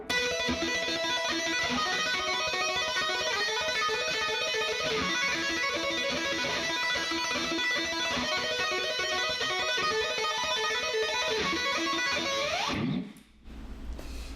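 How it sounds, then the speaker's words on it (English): A dense, fast stream of bright electric guitar notes played with two-handed tapping runs continuously and loudly, then cuts off abruptly near the end. "I use two-handed technique to play the same notes."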